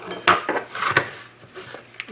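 A fork clinks and scrapes against a bowl while mixing stromboli dough ingredients, giving a few close, irregular taps and clatters.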